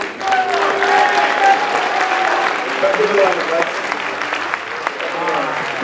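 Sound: audience applause for bodybuilders

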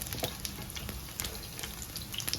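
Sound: chicken frying in a pan on medium flame

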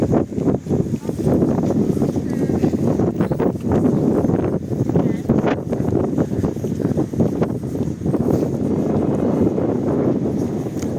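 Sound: wind

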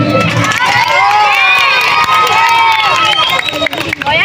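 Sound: crowd applauding and cheering

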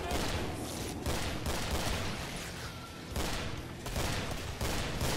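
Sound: shotgun gunfire in the video game Killing Floor

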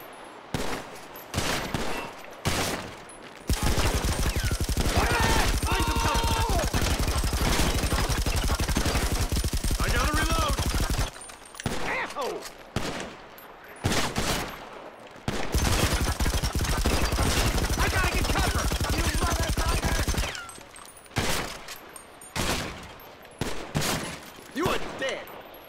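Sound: gunfire from the video game GTA Online

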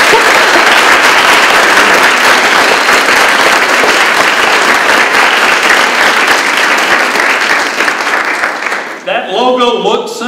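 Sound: audience round of applause

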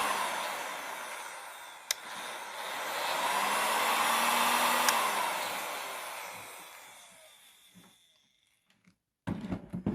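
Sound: heat gun running at higher fan speed

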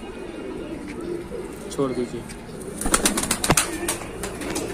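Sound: Shahjahanpuri breed pigeons cooing

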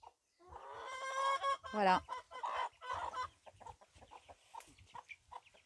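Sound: young chickens clucking

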